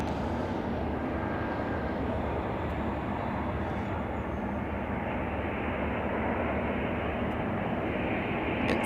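An Embraer E170 jet, a United Express flight operated by Republic, rumbles at an airport as a steady broadband engine roar that holds at an even, moderate level throughout, with no talking.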